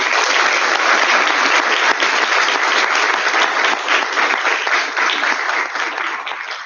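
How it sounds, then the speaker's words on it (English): A hall full of attendees at a veterinary students' congress in Nepal gives a professor a round of applause: thick, continuous clapping from many hands, holding strong before easing slightly toward the end. "Please thank Professor with the round of applause"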